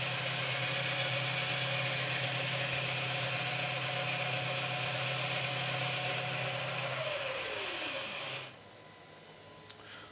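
Haas TL-1 lathe running at about 85 RPM, giving a steady close mechanical hum with a faint tonal whine that winds down as the machine stops near the end, leaving quiet room noise and one small click.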